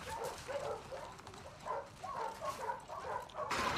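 A dog in The Last of Us Part 2 gives repeated short barks and yips at a moderate distance, alone over ambient game sound.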